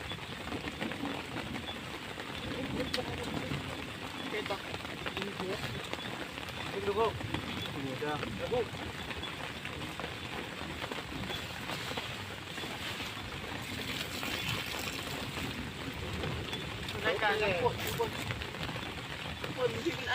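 A rainstorm arrives over a rural outdoor spot in Thailand's Phu Thai country. Rain makes a continuous dense hiss with scattered pattering, and voices occasionally talk beneath it.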